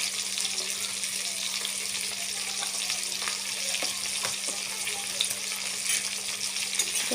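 Chicken frying in a pan with meat masala and chili powder, a steady close hiss of sizzling oil broken by occasional scraping clicks of a spoon stirring, with no voices.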